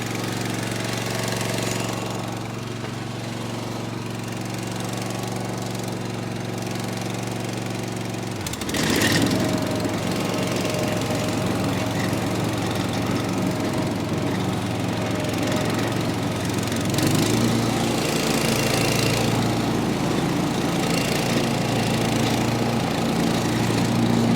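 A Kawasaki FR691V lawn mower engine, fitted with a new head gasket, runs steadily and loudly throughout, its pitch shifting partway as it appears to take on load and keep droning.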